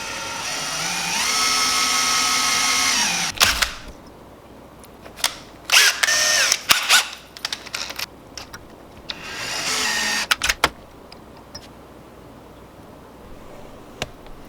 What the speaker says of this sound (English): I was drilling the hole for the bottom joint connection